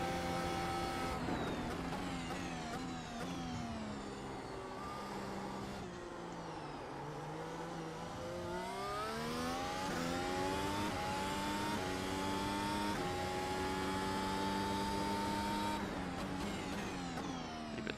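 Race car engine during a lap in iRacing, a loud continuous whine that repeatedly sweeps up in pitch and drops back through gear changes and braking, with no one speaking.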